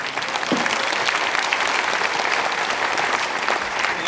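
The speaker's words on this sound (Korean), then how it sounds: "뜨거운 박수 부탁합니다." A crowd at a Korean Christian joint revival gathering in Yangcheon applauds warmly, a continuous wash of many hands clapping for about four seconds with no talking over it.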